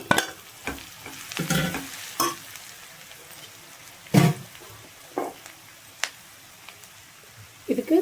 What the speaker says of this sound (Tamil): இப்போ அது நல்லா ஒரு 2-3 நிமிஷம் இப்படியே வதக்கி விட்டுக்கலாம்